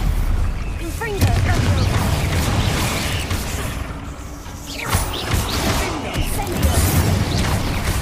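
A Confringo blast spell from the Hogwarts Legacy video game, cast in combat right after a stunning spell: booming bursts and whooshing impacts over a dense, loud game soundscape.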